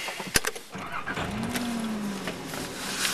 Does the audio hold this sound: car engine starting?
yes